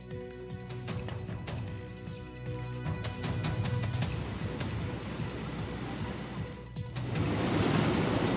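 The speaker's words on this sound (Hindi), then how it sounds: "पानी के तेज बहाव में स्कूली वैन फंस गई।" Fast-flowing floodwater rushing around a school van stuck in the current during a Rajasthan flood, a steady broad roar of moving water that swells louder toward the end, with no voices.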